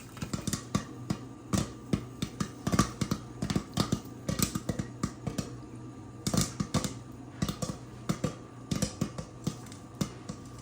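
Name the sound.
popcorn kernels popping in pot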